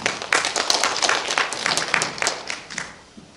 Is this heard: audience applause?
yes